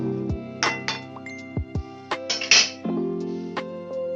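A lid set down on a cooking pot of ridge gourd left to boil in a little water, giving several bright metallic clinks and clatters, close and alone.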